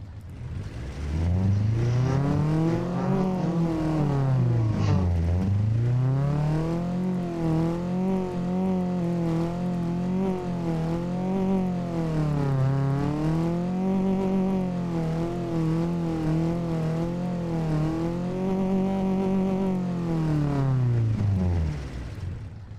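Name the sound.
car engine in a video game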